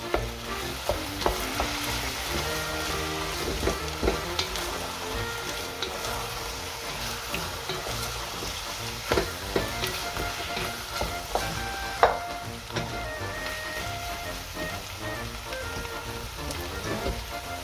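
Spices and cayenne pepper being stirred into a traditional spicy beef stew as it cooks, a steady close sizzle and crackle with scraping stir noises and occasional sharper clicks, no voices.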